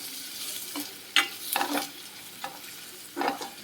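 A poppy seed curry being stir-fried in a pan: soft sizzling under several scraping strokes of a spoon against the pan, coming in irregular bursts, close and fairly quiet, with no voices.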